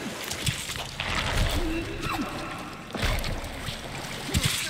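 Water sloshes and splashes in soft, repeated strokes while a character swims in the Sons Of The Forest video game, fairly quiet and close, with rhythmic surges about every second or two.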